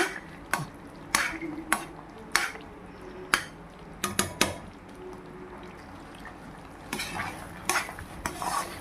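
Roasted cashews and raisins stirred into a butterfly pea flower kesari in a kadai, with a steady run of sharp scraping clinks from the spoon against the pan over a faint sizzle.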